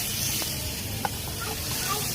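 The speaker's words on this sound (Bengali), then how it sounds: "এখন সবজিগুলো ঢেলে নেব।" Vegetables poured into a hot pan on a kitchen stove, giving a steady, loud hiss and sizzle that carries on evenly throughout, with a faint clink partway through.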